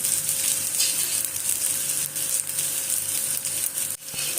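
Poha thalipeeth fries in oil on a hot griddle with a steady, close sizzle that holds loud and even throughout, broken only by a brief dip near the end; no one speaks.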